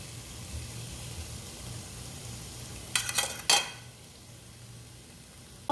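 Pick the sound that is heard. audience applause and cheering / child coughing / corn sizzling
corn sizzling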